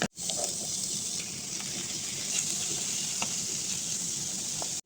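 Ground beef with onion and garlic sautés in a pan for a home-style Filipino vegetable dish, giving a steady close sizzle with occasional clinks and scrapes of a spoon stirring through.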